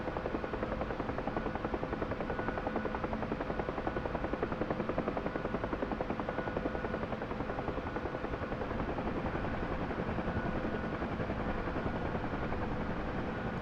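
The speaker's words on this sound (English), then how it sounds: "Hover above it until the crew hooks it on our chopper" Rotor thump and turbine whine of a UH-1 Huey helicopter hovering in a DCS flight sim, loud and steady throughout with no voices.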